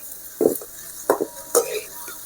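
Three separate scraping strokes as fried rice with capsicum and salt is stirred in a pan, each a short, close swish-and-clatter separated by quiet gaps.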